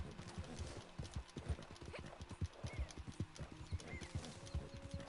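Horse hooves clip-clop steadily in Red Dead Online, a close, regular gait of sharp thuds with a brief whinny-like call mixed in, no talking.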